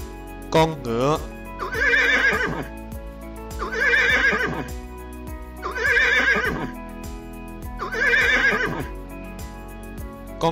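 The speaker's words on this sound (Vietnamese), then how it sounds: "Con ngựa." A horse whinnies in four long, shaky neighs at regular intervals, loud and close over background music, with a short rising call at the start.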